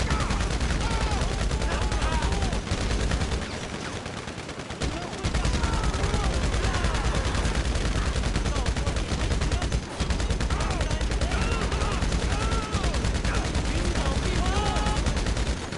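Dense gunfire in GTA Online, rapid bursts of shots crackling almost without pause, with one brief lull partway through, loud and close, while someone talks over it now and then.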